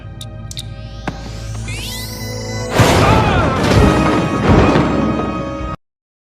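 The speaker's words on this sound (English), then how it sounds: "he obviously rigged up his phaser to explode on his signal" A phaser from Star Trek: Deep Space Nine, rigged to explode, whines and climbs in pitch, then bursts into a loud, close explosion that rumbles on for several seconds before cutting off.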